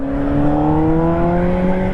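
Steady engine roar from a car held at raised revs, its pitch creeping slightly upward over two seconds, loud and near with no talking.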